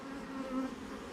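Honey bees buzzing in a bee yard, a close steady drone with a clear tonal hum that swells briefly in the middle of a short burst, alone with no voices.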